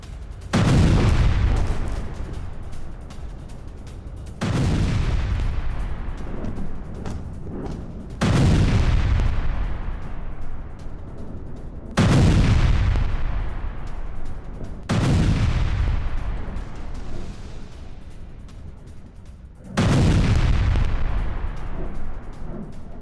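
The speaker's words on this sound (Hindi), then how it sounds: "अल हुदैह में भीषण मिसाइल अटैक किया गया है" Missile strikes at Al Hudaydah bring five heavy, booming explosions at intervals of about four seconds, each a deep blast with a long rumbling decay.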